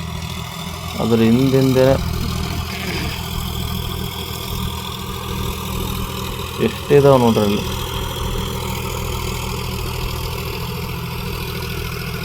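A tractor engine idles and rumbles steadily in an open field while egrets follow behind it, a continuous low drone under two short bursts of someone talking.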